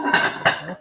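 A metal lid set down on a skillet on an induction cooktop while steaming boudin, giving two quick close clanks about a third of a second apart.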